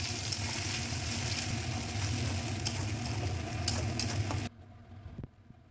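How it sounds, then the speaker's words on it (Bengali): Spice paste frying in hot mustard oil with cumin, stirred: a steady close sizzle for several seconds that drops off abruptly near the end, leaving a few faint clatters, no voices. "এখন সর্ষের তেল গরম করে জিরে ফোড়ন দিয়ে মশলার পেস্টটা দিয়ে নাড়াচাড়া করে নেব"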